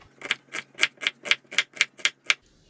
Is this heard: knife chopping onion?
yes